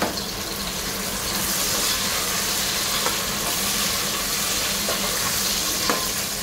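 Spices and bay leaf sautéing in hot oil for a mushroom pulao, giving a steady close sizzle and crackle throughout with a few faint stirring knocks, and no voices.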